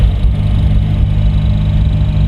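A Mazda RX-8 engine drones at idle with a low rumble and a faint continuous mechanical whir from a worn clutch release bearing, close and unchanging, with no voices.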